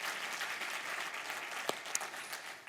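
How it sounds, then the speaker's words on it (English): Brief church congregation applause, a steady wash of clapping with a couple of sharper claps, fading at the end. "yeah, you can clap for that"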